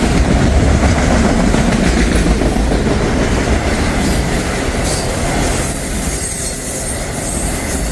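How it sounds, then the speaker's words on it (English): A Buckeye freight train rolls by across the road, a loud, continuous roar of wagons with rail rumble, clickety-clack and faint wheel squeal that eases slightly toward the end, with no talking. "We got Buckeye Freight rolling over there on the other side of the road."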